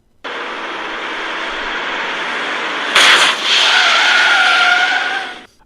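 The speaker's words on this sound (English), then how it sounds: "the tire blowing out like that at high speed caused the old truck to flip over" An old truck's tire blows out at high speed and the truck skids and flips over: a steady, loud, broad screeching roar, broken about midway by a sharp harsher burst before the noise cuts off. No talking.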